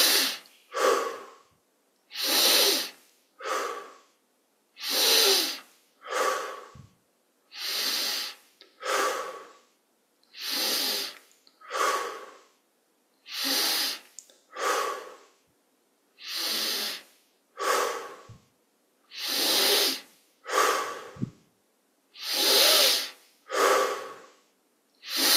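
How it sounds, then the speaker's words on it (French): Deep, slow breaths during a guided breathing meditation, about twenty full inhales and exhales. They are loud, close and airy, come in a steady rhythm and stand alone. "20 grandes respirations."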